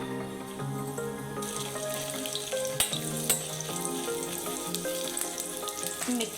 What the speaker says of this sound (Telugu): మనకి డ్రై మిర్చి తొందరగానే ఫ్రై అయిపోతుంది